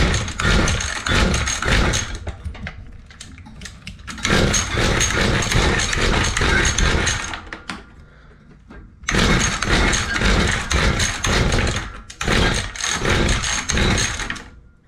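A Mantis two-stroke rototiller that is hard to start is cranked repeatedly, giving bursts of rapid rhythmic pulling and sputtering engine sound separated by short quiet pauses, close and loud.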